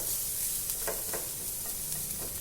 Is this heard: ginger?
yes